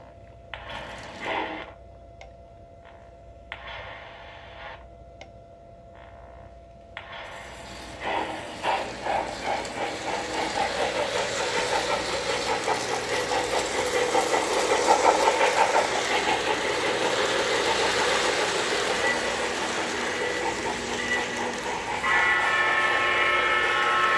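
A Lionel Santa Fe toy train starts with a few clicks and chuffing sounds, then runs with a continuous whirring rumble, close by, and a whistle near the end.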